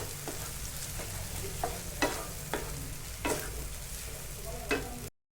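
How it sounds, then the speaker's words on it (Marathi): Steamed, mashed vegetables sautéed in tomato puree for pav bhaji, a constant sizzle punctuated by several soft stirring scrapes at irregular intervals, close up and without speech, cutting off abruptly at the end. "आता यामध्ये आपण वाफवून बारीक केलेल्या भाज्या घालून छान परतून घेऊया छान मिक्स करून घेऊया"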